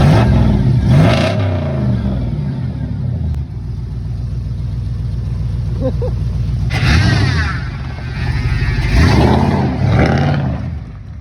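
A GMC Sierra 2500 pickup with a 6.0 engine rumbles and revs up repeatedly in bursts during a burnout attempt, loud and close, with people talking over it.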